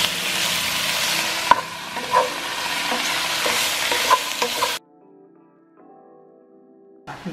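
Food being stirred in a hot cooking pan, a sizzle with repeated scraping and knocks of a utensil that stops abruptly, leaving a faint hum before a brief noise at the end.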